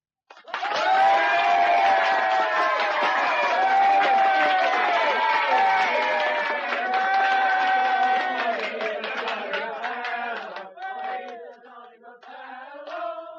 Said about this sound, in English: A dense crowd of cheering students surged round us.